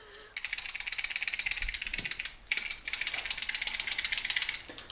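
A ratchet socket wrench on an extension clicks rapidly while working a fastener on a bike, a close, loud run of fine pawl ticks with a short pause midway.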